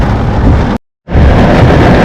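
Loud, steady downpour of heavy rain roaring broadly near Kihim Beach, cut by a brief gap of silence before the dense rainfall resumes.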